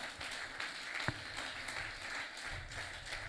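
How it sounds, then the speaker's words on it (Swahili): A church congregation clapping hands in praise, a soft, distant mass of applause running steadily throughout. "Pigie Bwana mikono ya shangwe"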